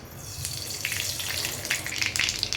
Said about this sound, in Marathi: तेल तापलं की आता आपण त्याच्यात मोहरी टाकूया